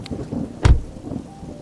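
Rain patters lightly while a single close, heavy thunder boom breaks out briefly in the middle, with no voices present.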